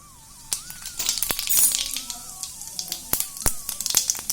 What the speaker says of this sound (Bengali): দিয়ে দিচ্ছি জিরে